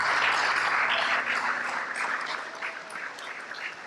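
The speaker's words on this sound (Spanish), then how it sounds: "Démosle un aplauso a los servidores, sí, por su servicio." Church congregation applauding the volunteers who serve, a thick, continuous burst of many hands clapping that gradually thins and softens toward the end.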